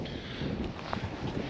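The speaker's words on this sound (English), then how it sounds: "It's super windy up on the hill here." Strong wind blows over a farm hilltop on a cold morning, a fairly faint, steady low rumble of gusts buffeting the microphone.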